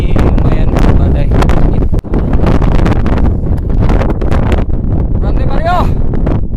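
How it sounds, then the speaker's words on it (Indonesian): Strong stormy wind buffets the microphone on the Mount Latimojong summit in Sulawesi, a loud continuous roar with gusty bursts, while a voice talks over it close by. "Angin besar sekali waktu kita sampai nih."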